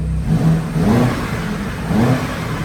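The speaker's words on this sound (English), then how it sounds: "fire the car back up, put it in its most aggressive mode, and give the car a tiny little blip for you." A BMW X5M Competition SUV, parked indoors in its most aggressive drive mode, gives a couple of short throttle blips over a steady idle, the engine rising briefly and settling back.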